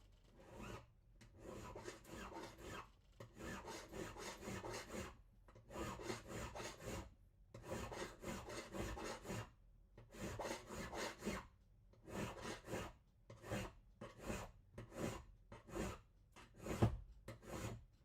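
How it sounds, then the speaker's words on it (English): A hand file rasps against a slate and silver jewellery pendant in steady back-and-forth strokes, close and alone, grouped into rhythmic runs separated by brief pauses. "So as I'm filing, I'm kind of rotating the file a little bit, working at building some curvature in there."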